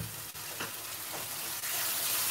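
Curry base gravy for a black pepper kalimirch curry bubbling and reducing in a hot pan, a steady close sizzle with occasional spoon scrapes and pops.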